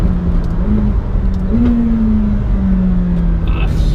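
A McLaren 720S engine hums steadily at moderate revs from inside the cabin, rising slightly in pitch a couple of times.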